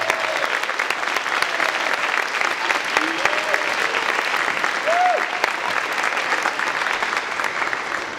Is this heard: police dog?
no